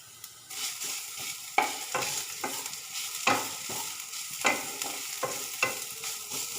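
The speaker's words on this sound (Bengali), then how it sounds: "1 ইঞ্চি পরিমাণ আদা আর 7-8টা মতো রসুন ক্রাশ করে রেখেছি আমি, এটা মধ্যে দিয়ে দেবো।" Crushed ginger and garlic fry in hot oil in a pan with a steady sizzle. A spatula scrapes and stirs in repeated, evenly spaced strokes, close by and without talk.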